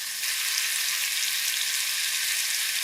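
Frozen chopped onions fry in a pan with a bright, even hiss of sizzling that rises at the start and holds steady and close for a few seconds, with no voices.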